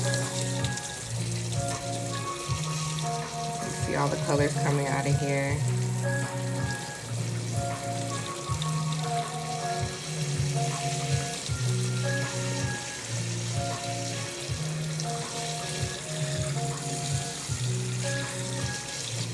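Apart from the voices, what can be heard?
rinsing tie-dyed fabric under running water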